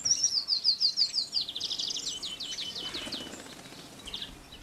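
A winter flock of small birds such as tits, finches, treecreepers and goldcrests, giving a rapid run of high, thin chirps and twitters close by before the calls thin out and fade.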